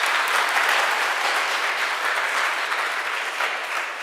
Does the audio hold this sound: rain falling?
no